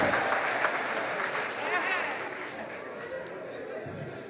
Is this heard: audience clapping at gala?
yes